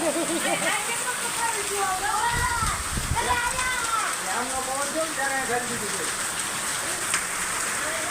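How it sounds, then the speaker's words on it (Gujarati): Constant rain and hailstones patter and hiss in the background while people talk over it. "આમ આજનો વરસાદ"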